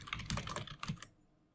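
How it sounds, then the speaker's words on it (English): Quick keystrokes on a computer keyboard while a label is typed in: a brisk run of about eight close, crisp clicks for one second, then quiet. "Then you have to type in the label of your choice."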